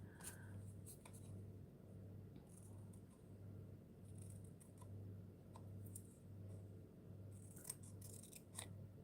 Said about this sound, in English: I'm using nail scissors and using the curve of the scissors